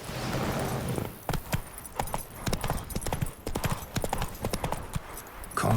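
Hooves of Roach, the horse in The Witcher 3: Blood and Wine, clip-clop in a quick steady rhythm, close and clear, over a low ambient background.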